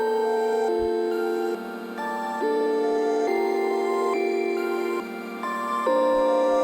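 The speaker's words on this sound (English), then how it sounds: "So then I went into Xenology and I used a bell." A glassy bell synth patch plays a stepping melody at half-time over a sustained pad, its volume chopped by gated automation into sections that drop and swell, steady and fairly loud throughout with no talking.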